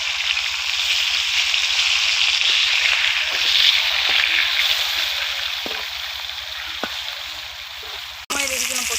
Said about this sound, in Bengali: মাছ ভাজা হয়ে গেছে, উল্টে দিচ্ছি।